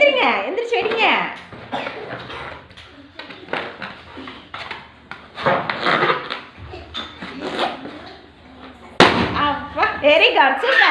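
Several balloons burst with sharp pops as players sit on them in a Pongal festival game, scattered among lively voices and chatter, with one loud bang near the end.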